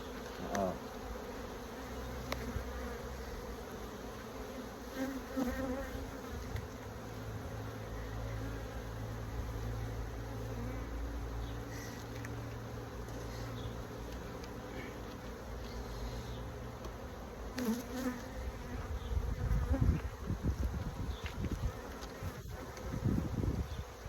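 Honey bees buzz steadily throughout an open hive during an inspection, a dense droning hum close to the microphone with a few louder passes near the end; no one speaks.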